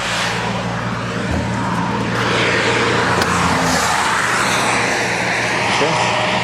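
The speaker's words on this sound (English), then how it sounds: "As soon as this truck goes by," A truck passing by outside near Lake Louise, Alberta, a loud broad engine and road roar that swells and holds, with a voice talking over it.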